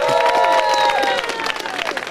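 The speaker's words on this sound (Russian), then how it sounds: "Третья пара, аплодисменты!" Audience applause and cheering at a lezginka dance contest during an Adygei cheese festival in Adygeysk, a dense crowd roar with high whoops and whistles sustained throughout.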